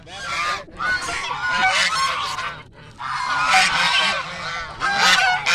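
Ducks being fed at a temple let out loud, harsh honking calls in rapid overlapping bursts, close by and nearly continuous, with brief gaps between volleys and no talking.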